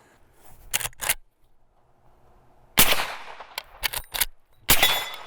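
Sharp, loud reports from a .45-70 Henry X Model lever-action rifle ring out outdoors, a couple of close blasts with quick echoing tails and a few smaller clacks between them, and no talking.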